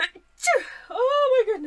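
A quick sharp sneeze sounds up close, followed by a drawn-out voiced exhale or groan, with a short breathy sound just before it.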